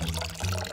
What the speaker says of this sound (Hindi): मुझे इसे पानी देना होगा।